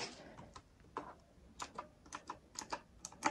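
Close, quiet clacking of keys on a retro-style Knewkey mechanical keyboard, a run of separate crisp taps in uneven rhythm with nothing else around.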